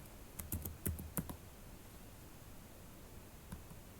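Quick bursts of keystrokes on a computer keyboard, a few clustered clicks early on, then a pause and one lone tap, soft and close against a quiet hiss.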